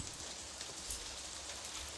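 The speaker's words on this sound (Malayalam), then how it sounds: "മഴ പെയ്യുന്നു" Steady rain falls with a soft, even hiss and scattered patters of drops, fairly faint and continuous.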